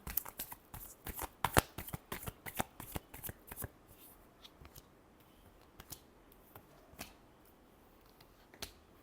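Tarot cards are shuffled in a quick series of crisp riffling snaps and flicks, dense at first and then sparser, close up and fairly quiet.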